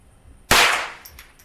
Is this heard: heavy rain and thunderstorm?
no